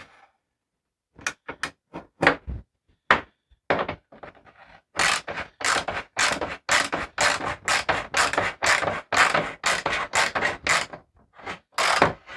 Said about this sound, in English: Just my socket to tighten that back down.